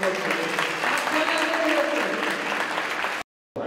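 An audience at an Icelandic horse show claps steadily in a dense, sustained patter, with a voice speaking over it, then the sound cuts out abruptly near the end.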